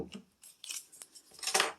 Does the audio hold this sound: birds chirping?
no